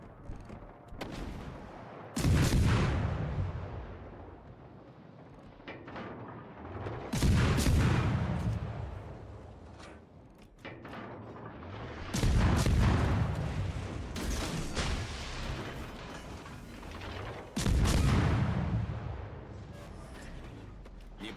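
Warship guns firing shells in the World of Warships: Legends game, four heavy booming salvos spaced about five seconds apart, each with a rumbling decay between shots.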